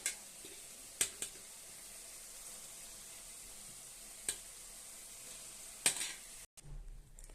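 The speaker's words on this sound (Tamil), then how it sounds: "இந்த சாதம் போட்டு நான் இப்போ கிளற போகிறேன்." Cooked rice is stirred into tomato paste in a pan, giving a quiet, faint sizzle close by with a few sharp scrapes and clicks of the utensil against the pan, and no talk.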